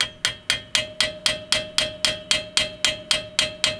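A hammer strikes a nut threaded onto a rear axle stud of an 80 Series Land Cruiser, giving about fifteen sharp metallic taps in a steady rhythm, loud and close, with a faint ringing tone.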